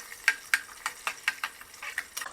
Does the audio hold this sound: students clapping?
no